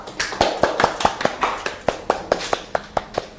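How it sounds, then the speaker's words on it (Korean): A small group claps for a few seconds, with sharp, evenly spaced hand claps at close range in a quiet indoor room. "박수"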